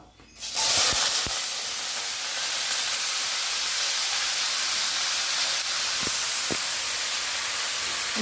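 Washed, chopped bottle gourd dropped into hot oil tempered with panch phoron and dried red chilies, bursting into a loud steady hiss that sustains throughout, with a few soft clinks of utensils.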